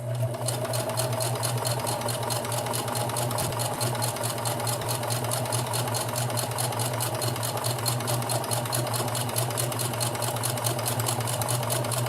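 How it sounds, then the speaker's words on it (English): A sewing machine stitches fabric at a steady, fast, even pace, close and continuous throughout with a constant motor hum. "just start sewing and your bobbin thread will just magically appear most of the time"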